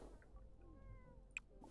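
A cat in The Sims 4 meows once, a short faint game call, followed by a tiny click, with no talking.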